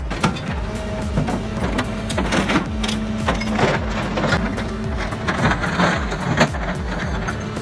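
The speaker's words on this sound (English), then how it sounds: "The VTN Scrap Shear CUR 7000 is a powerful hydraulic machine engineered to slice through heavy metals like bulldozer blades with ease." A VTN Scrap Shear CUR 7000 hydraulic shear cutting through heavy scrap metal such as bulldozer blades, giving a steady, loud mechanical grinding and creaking with repeated clanking impacts throughout.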